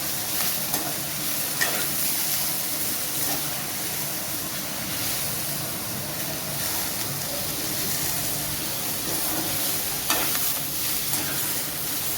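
Coriander leaves and mint frying and being stirred in a pan with cooked tomatoes for mint-coriander chutney, a steady close sizzle with scraping stirs throughout, no talk.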